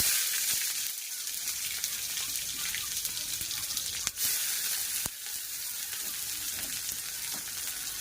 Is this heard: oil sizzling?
yes